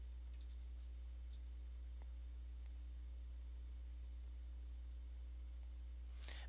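A computer mouse clicks a few times, faint and sparse, over a steady electrical hum and soft background hiss in a quiet room, with no speech.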